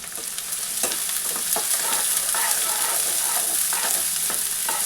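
Onions and bay leaves fry in a pan, a close, steady sizzle that grows slightly louder, punctuated by repeated scraping and clinking of a spatula stirring against the pan.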